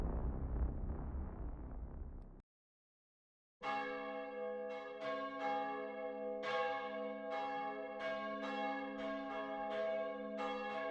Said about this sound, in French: vous venez d'entendre les cloches de la cité sonner